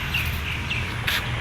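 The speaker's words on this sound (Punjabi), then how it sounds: "ਤੇ ਪੰਛੀਆਂ ਦੀਆਂ ਆਵਾਜ਼ਾਂ ਤੁਹਾਨੂੰ ਆ ਰਹੀਆਂ ਹੋਣਗੀਆਂ" A few faint bird chirps in a village over a steady outdoor background hum, brief high calls spaced apart.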